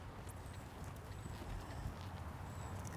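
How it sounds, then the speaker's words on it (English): A horse cantering in a riding clinic arena, soft rhythmic hoofbeats thudding at a moderate distance under a low, steady background, no voices. "You just engaged him until he started cantering."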